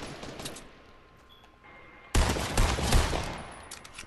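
Rapid bursts of video game gunfire from a team firefight erupt loudly halfway through, dense and sustained after a quieter stretch of faint background ambience.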